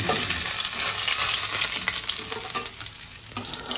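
Rupchanda pomfret fish frying in a pan, a loud, dense close sizzle with faint stirring or scraping, with no voices.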